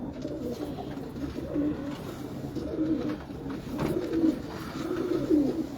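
A female Shah Parwaz pigeon, all blue with a Jammu-type build, coos softly and repeatedly in low, throaty pulses that swell and fade over steady background murmur, close by.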